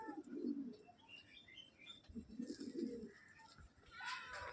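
Big, restless pigeons murmur in soft low coos interspersed with faint chirps and brief wing flutters, close and quiet with no clear talk.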